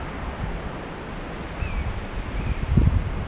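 Wind blows outdoors at a fairly sheltered spot, a steady low rumble of gusts against the microphone that swells toward the end, with faint rustling and no talking.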